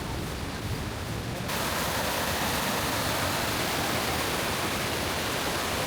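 Steady broadband rush of a waterfall at a tour stop near Taipei, Taiwan, loud and close, growing fuller after a second or so and continuing unbroken with no voices.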